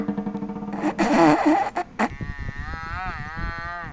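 A buffalo lows in a video game, one long drawn-out moo that swells and then trails off, loud and close, with a few clunky game noises around it.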